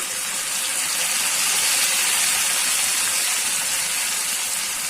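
Water hitting a hot pan of spices gives a steady, loud steaming hiss that holds unbroken for several seconds, bright and airy with no breaks or voices.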